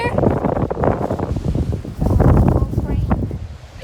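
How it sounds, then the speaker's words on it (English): Strong wind buffets a beach where sand is blowing, roaring and gusting in constant bursts of loud microphone rumble, with people's voices heard faintly through it. "So windy."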